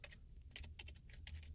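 Code being typed on a computer keyboard: a quick, quiet burst of close key clicks in uneven clusters, with no voices.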